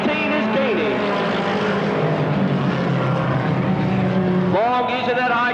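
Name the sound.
race cars racing on an oval track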